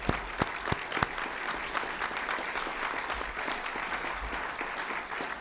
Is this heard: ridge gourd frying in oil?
no